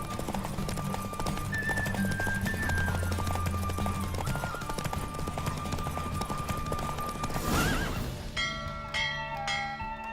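Horse hooves clip-clop at a steady galloping rhythm during a race in the video game The Witcher 3, with a neigh near the end, layered over game music and a brief bell-like chime, loud and close throughout.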